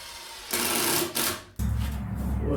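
A power drill drives screws into a pine bench board in two loud whirring bursts, the second a steady grinding run that stays up close.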